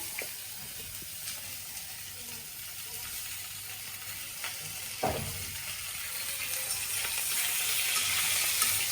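Fish frying in a pan for a home-cooked evening curry with potato and eggplant, a soft steady sizzle with a couple of clinks and stirring sounds, growing slightly louder toward the end.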